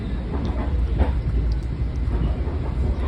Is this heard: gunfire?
no